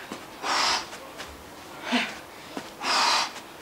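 Heavy, forceful breaths during a body-weight workout come in three strong huffs, close to the mic and spaced about a second apart, with quieter breathing in between them.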